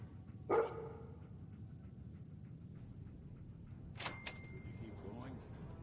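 Dogmeat, the dog companion in Fallout 4, gives a single sharp bark near the start, followed later by a brief electronic chime and faint whimpering, all over a low game-ambience hum.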